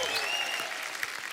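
Studio audience applause on a comedy show stage, a dense steady clapping from a large crowd, loud and continuous throughout with a faint whistle near the start.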